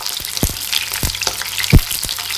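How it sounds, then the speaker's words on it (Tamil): Onions fry in oil in a pan over low heat for a North Indian style onion masala sabzi, giving a steady close sizzle with a few soft thumps from stirring. "இந்த வெங்காயத்தை நம்ம லேசாக வறுத்து எடுக்கிறோம்."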